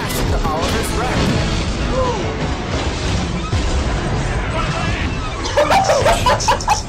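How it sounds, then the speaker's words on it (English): A cartoon steam engine crashes into a wrecked engine on a lift bridge while pushing freight cars, a dense clattering smash mixed with voices and laughter throughout. "Henry was pushing freight cars onto the bridge and smashed into Oliver's wreck"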